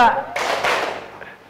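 A class of children clapping together in a classroom rhythm game, a few sharp group claps in quick sequence, close and fairly loud, with voices calling out alongside.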